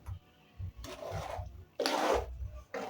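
Cement filler smoothed over a bedroom wall, rough scraping strokes in two bursts, the second louder and longer, with a low hum underneath and no talking.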